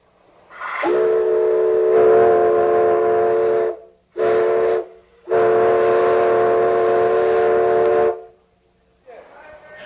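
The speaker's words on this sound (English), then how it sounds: "That was the first time 4960's whistle was blown since its rebuild." Steam locomotive 4960 on the Grand Canyon Railway sounds its whistle after a rebuild, running at low boiler pressure: a loud, near, sustained tone in two long blasts split by a brief burst, ending with a fainter hiss.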